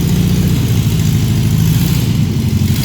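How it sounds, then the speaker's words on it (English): A 1974 Volkswagen Super Beetle pickup engine runs steadily nearby, a loud, even low-pitched idle with a slight rhythmic pulse throughout. "I think I'm gonna try taking it for a quick little spin."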